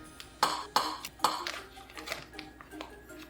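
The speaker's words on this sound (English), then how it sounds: "Now I'm going in with my pastry cutter and just breaking the butter down." A pastry cutter clinks against a bowl while breaking cold butter into flour for Danish pebernødder cookie dough, a few sharp metallic taps followed by softer scraping and clicks.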